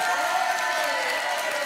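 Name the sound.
studio audience applause on TV show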